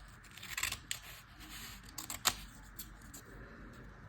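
Scissors snip out paper ephemera from a book, giving several sharp close clicks and cuts spaced irregularly over a soft background hiss.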